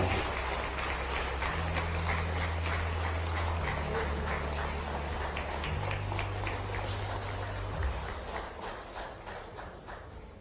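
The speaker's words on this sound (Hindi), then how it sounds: "माननीय सीएम डॉक्टर मोहन यादव के लिए जोरदार तालियां बजनी चाहिए, जोरदार तालियां, खड़े होकर एवरीवन।" Sustained applause from a standing audience honouring a chief minister at a public event, steady dense clapping throughout, with a low hum underneath and a faint voice partway through, fading slightly near the end.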